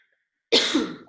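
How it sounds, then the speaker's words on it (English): A single harsh cough rings out close by, a short rough burst that trails off, with silence before it. "sorry, I'm coughing too"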